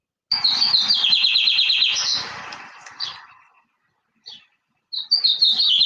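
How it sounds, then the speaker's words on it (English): Birds chirp in rapid, bright trilling bursts close by, pausing briefly before another burst of tweeting starts up. "Lots and lots of birds are chirping in the trees."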